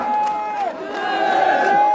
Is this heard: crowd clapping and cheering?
yes